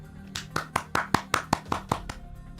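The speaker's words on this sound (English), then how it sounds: "I'm clapping way too close to like myself" About nine quick hand claps land in a steady rhythm, close and fairly sharp, over a low background hum.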